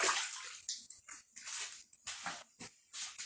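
Water splashes over a spade being rinsed during a home moonshine fermentation session, coming in short, close bursts of running and sloshing with brief pauses between them.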